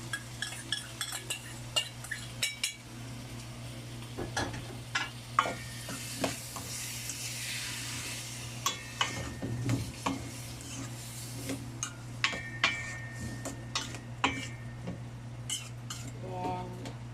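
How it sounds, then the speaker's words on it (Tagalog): A spoon scrapes and clinks against a pan while stirring sautéed ginisang munggo, a mung bean dish. Soft sizzling and intermittent metallic taps sound over a steady low stove hum. "Haluin natin siya."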